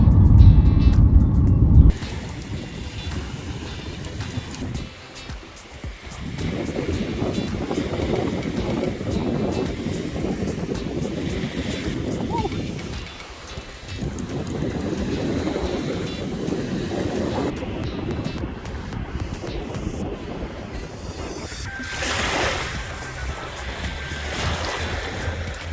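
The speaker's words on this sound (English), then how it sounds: "right now the wind is blowing into us" Strong wind buffets the microphone outdoors, a steady broadband roar that rises and falls in gusts, with a hollow rumble like water or a passing vehicle mixed in and no speech.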